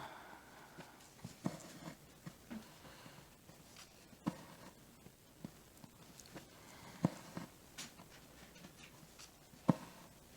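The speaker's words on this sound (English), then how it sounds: "Those aren't my dogs barking." Dogs barking out in a backyard, heard distantly and faintly as scattered short barks over a quiet room background.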